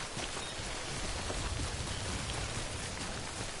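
Steady rain pours in the video game Death Stranding, a dense, even hiss of falling drops with no breaks, moderately quiet and continuous.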